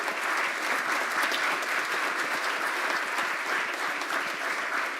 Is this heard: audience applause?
yes